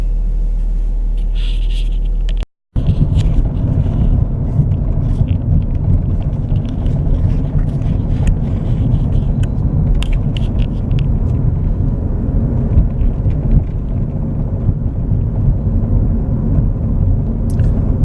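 Car driving down the road, heard from inside: a steady low engine and road rumble that drops out briefly once near the start, then carries on evenly, fairly loud, with no talking.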